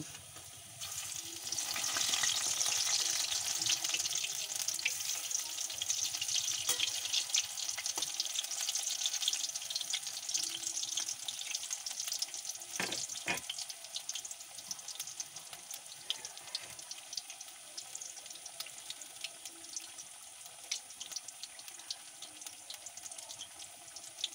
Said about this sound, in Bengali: এক পিঠ ভাজা হয়ে গিয়েছে আর এক পিঠ ভেজে নেব